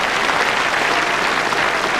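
A large crowd of over 2,000 at a world title lawn bowls match applauds a recovery shot. The applause is loud, dense and continuous from start to finish.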